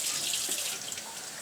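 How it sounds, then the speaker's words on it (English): Running water pours steadily from a tap to soak a grocery store Phalaenopsis orchid pot. It makes a close, bright, splashy rush that eases slightly toward the end, with no talking. "give it a little soak with some water."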